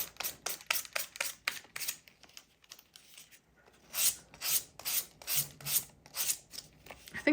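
Coarse-grit sandpaper rasps over a leather piece in rhythmic back-and-forth strokes, close and fairly quiet, with a brief pause in the middle before another run of strokes.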